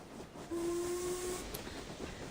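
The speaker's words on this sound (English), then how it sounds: "With a sharp whistle, the train surges forward, chugging." A steam train whistle in the video game Reverse: 1999 gives one sharp, steady tone lasting almost a second over a soft hiss of steam and rolling rail noise as the train pulls away, fairly quiet overall.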